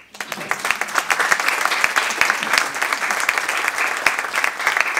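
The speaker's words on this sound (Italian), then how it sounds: "Io vi farei un applauso." An audience applauds steadily after a music composition exercise, close and dense clapping holding at an even level throughout with no talk over it.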